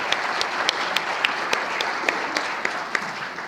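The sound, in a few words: audience applause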